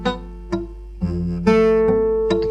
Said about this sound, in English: If you have a weak bar chord, it might sound a little bit like this.